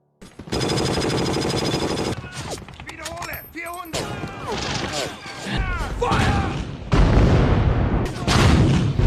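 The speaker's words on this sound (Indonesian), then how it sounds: "Kedatangan Kompi E disambut dengan meriam 88 Jerman." German 88 mm artillery cannon fire from a war film, heavy booming blasts and crashes in a dense battle mix with shouting voices and explosions throughout.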